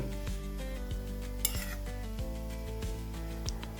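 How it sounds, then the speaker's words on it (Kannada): Grated carrot fries in ghee for carrot halwa while a spoon scrapes and stirs the pan, a soft continuous sizzle under clinking metal strokes, close and fairly quiet. "ಈಗ ಒಂದು ಸ್ಪೂನ ತುಪ್ಪ ಹಾಕೋರಿ ತುಪ್ಪ ಮೇಲೆ ಮತ್ತೆ ಅದನ್ನ ಚೆನ್ನಾಗಿ ಫ್ರೈ ಮಾಡ್ಕೋರಿ"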